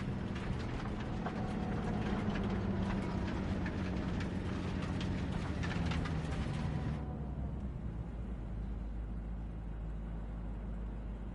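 A moving train in the Cyberpunk 2077 video game, a steady loud rumbling roar with metallic clatter that drops to a lower, duller drone partway through.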